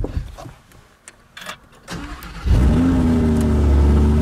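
Lamborghini Huracan Spyder with its V10 engine, roof down, fires up after quiet cabin noises, settling into a loud, steady, rumbling idle close by.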